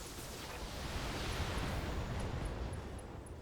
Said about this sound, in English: his ammo's exploded